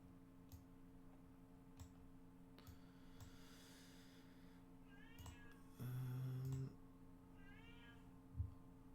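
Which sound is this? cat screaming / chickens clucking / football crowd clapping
cat screaming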